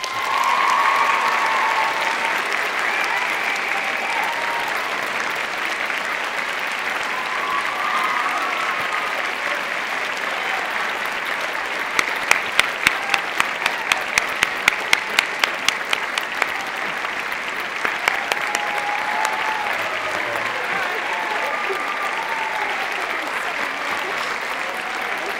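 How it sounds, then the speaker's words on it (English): Past and current students lead a loud, sustained round of applause honoring a distinguished English teacher at a school gathering, with steady crowd clapping and a burst of sharper rhythmic claps in the middle, a few cheers mixed in. "I invite her past and current students to loudly lead us in a joyful round of applause"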